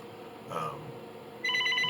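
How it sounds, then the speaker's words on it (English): A mobile phone rings briefly near the end, a bright electronic tone cutting in over a quiet room. "As y'all see, my phone is blowing up."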